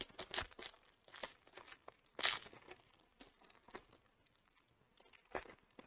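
A 2021 Panini Contenders football card pack is torn open, with crinkling foil wrapper, a sharp rip and scattered soft rustles, close and fairly quiet, with no talking.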